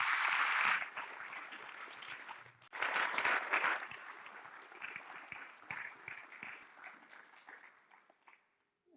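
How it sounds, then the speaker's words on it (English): Audience applause at a governor's symposium, honoring the featured speaker, panelists, moderator and MC: a full, dense burst of clapping that dips briefly, swells again, then gradually thins and fades to silence near the end. "Please give them all a round of applause."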